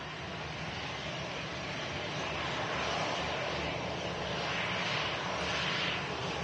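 EasyJet airliner arriving at Manchester Airport from La Rochelle, heard as a steady, broad jet engine roar at moderate distance that swells slightly as it passes, with no talking.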